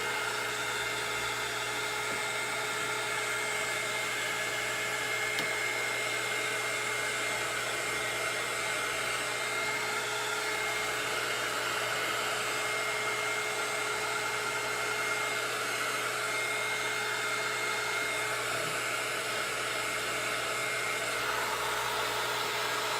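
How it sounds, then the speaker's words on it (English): A heat gun blows steadily on an alcohol ink tumbler, giving a continuous close whooshing fan-and-air roar that holds at an even level throughout. "Use your heat gun to push wherever you think you need more."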